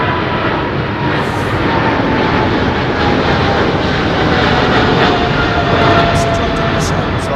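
Aircraft engine at London Heathrow Airport, a loud continuous roar with a faint whining tone running through it, steady from start to finish.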